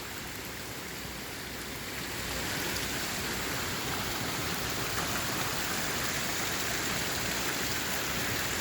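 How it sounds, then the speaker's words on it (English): Rainwater runs off a hillside beside a rural property, a steady broadband wash of flowing water and rain that swells slightly after the first couple of seconds, then holds constant and close with no voices. "this is all just flow off of the hillside"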